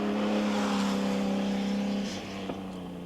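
A Paris-Dakar rally car from 1986 drives over bumps and potholes, its engine droning loud and close, holding a steady pitch before easing off near the end.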